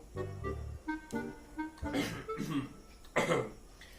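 Someone coughs several times nearby, harsh rasping bursts mixed with throat-clearing and a few short vocal sounds.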